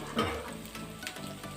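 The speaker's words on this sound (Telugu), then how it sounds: "దోశ కాలాక చుట్టూ ఆయిల్ వేసుకుంటే చాలా బాగా వస్తుంది దోశ." An onion dosa fries in oil on a hot pan, giving a short burst of crackling sizzle with faint spattering that fades slightly, close and clear with no voices.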